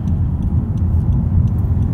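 Steady low road and engine rumble from inside a 2019 Honda Civic diesel with Honda Sensing, driving along a back road in third gear, constant and close with no talking.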